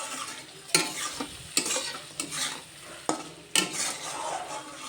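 Spice masala with salt being stirred in a frying pan, a steady close sizzle broken by several sharp scraping strokes of the spoon against the pan.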